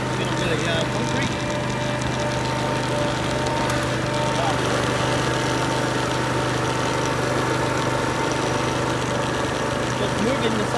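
A zero-turn ride-on lawn mower fitted with a trimmer attachment runs steadily on grass and concrete, its engine a constant close drone with a low hum throughout.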